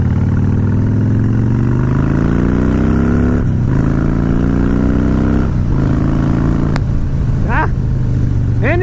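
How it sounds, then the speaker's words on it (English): A Harley-Davidson Fat Boy motorcycle with a Bassani exhaust rises in a loud, deep rev that climbs over several seconds, then settles into a throbbing idle with brief blips, close by. "And his exhaust just sounds badass"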